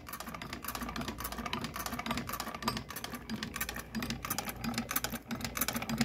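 A Singer 12 sewing machine runs by hand crank, producing a fast, steady mechanical clatter of needle and mechanism strokes, close and continuous without talk.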